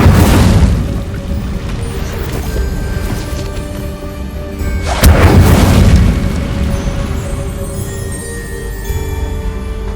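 A loud fiery spell blast booms in the Hogwarts Legacy game, with a second heavy burst midway through and a rumbling, crackling tail between and after the two hits.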